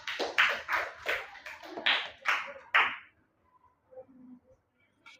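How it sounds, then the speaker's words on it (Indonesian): Classroom of fifth-grade primary school children clapping together for a student group, a brief burst of rhythmic, fairly close claps lasting about three seconds before fading into quiet room noise. "kita berikan tepuk tangan dulu untuk kelompok 3"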